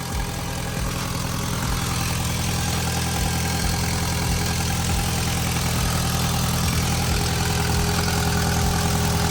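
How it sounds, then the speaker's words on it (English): An Audi TT engine idles with a blowing exhaust leak, a loud, close, continuous low rumble with a steady pulsing chuff running throughout and no voices. "That blow on the exhaust sounds like it's getting worse."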